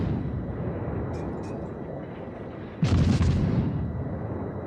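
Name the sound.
naval guns firing in World of Warships video game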